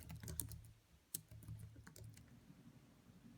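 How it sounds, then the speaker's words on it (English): Quick, light typing patters on a Logitech Type+ keyboard case for an iPad Air 2, a close, irregular run of soft key clicks with a couple of sharper taps and no speech. "so this is just normal typing"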